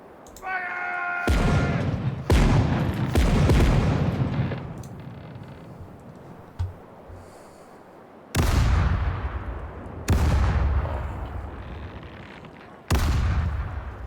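Ship's cannons in Caribbean Legend fire a broadside, a string of heavy booms that each ring out into a long decaying rumble. Loud, close blasts come irregularly, with quieter gaps and brief sounds between them.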